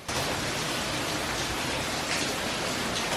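Heavy rain pours down during a tropical storm at EPCOT, a dense, steady hiss that stays loud and unbroken from start to finish with no voices.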